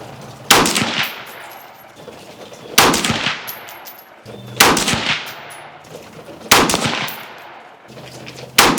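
An AR15 rifle firing 77-grain SPR ammunition outdoors: five sharp, loud single shots spaced roughly two seconds apart, each with a brief ringing decay, no speech.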